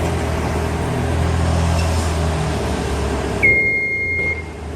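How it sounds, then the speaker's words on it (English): Over a steady machine hum, a single loud, clear electronic beep from a scissor lift platform signaling it is level sounds for about a second before the noise drops away. "there's a loud, solid, audible beep."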